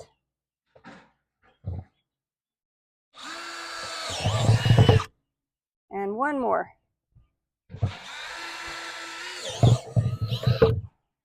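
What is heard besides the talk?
power drill drilling holes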